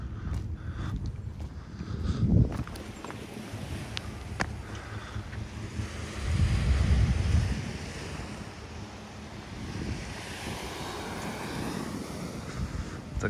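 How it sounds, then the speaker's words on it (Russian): Sea waves roll onto the beach in Adler beside the Olympic embankment, a steady broad wash with surges swelling and receding, mixed with wind buffeting the microphone and no voices. "Такая сегодня волна, такое море."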